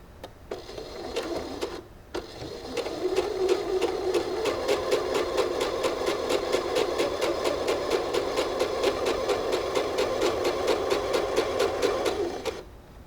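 A sewing machine runs a straight back stitch on a beginner garment top, its needle hammering in a fast, even rhythm for about ten seconds after a brief start and pause, close and steady with no talk.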